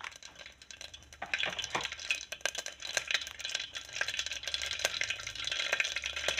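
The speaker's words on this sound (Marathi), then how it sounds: "मोहरी तडतडली की आपण त्यात जिरे टाकून घेऊया." Mustard and cumin seeds sputter in hot oil in a cooker while cooking whole masoor rice, giving close, irregular crackling pops over a soft, continuous sizzle.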